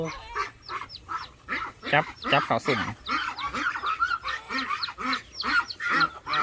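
Ducks honk and quack in a noisy bunch close by at a Thai duck sale while people talk and shout over them.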